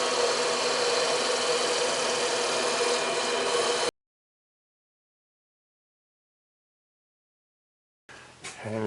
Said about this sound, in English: We're going to just do a quick boring here